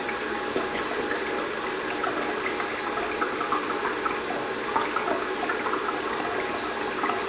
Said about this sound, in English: You want to fill it slowly, because it'll take the water slowly.